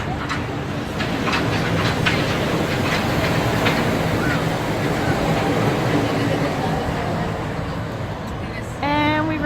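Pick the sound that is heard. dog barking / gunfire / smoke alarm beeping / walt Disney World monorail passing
walt Disney World monorail passing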